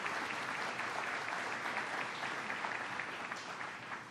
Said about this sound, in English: Let's give them a round of applause for the great work they do.